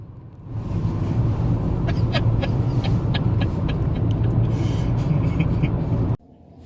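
A go-kart drives on a karting track with a loud, steady engine drone and rumble throughout, punctuated by faint high rattles, cutting off abruptly near the end.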